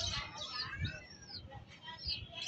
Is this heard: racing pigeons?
yes